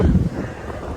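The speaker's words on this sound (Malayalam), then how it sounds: "നല്ല കാറ്റാണ്." Strong wind gusting across an open outdoor spot near the water, a loud continuous low rumble buffeting the microphone, heaviest at the start and then settling into a steady roar.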